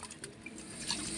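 Goat tripe is being washed in water until white, giving a faint, close splashing and trickling with small drips and sloshes over a couple of brief moments.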